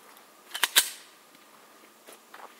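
An HK VP9 pistol fires Monarch ammunition outdoors, a few sharp shots cracking in quick succession near the start, followed by quieter, smaller pops and clicks.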